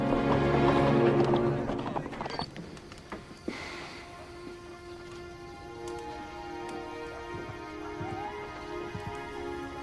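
Horse hooves clip-clop at a steady walking rhythm in a Western frontier setting, fairly close and moderately loud, heaviest at the start and then settling into lighter steps under a sustained musical hum.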